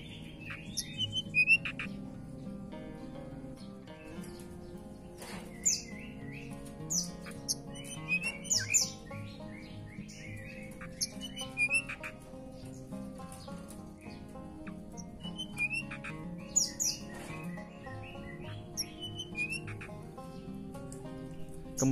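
Busy bird chatter from a caged Jampea ground flycatcher, with scattered chirps and squawking calls over a steady low hum, irregular bursts throughout.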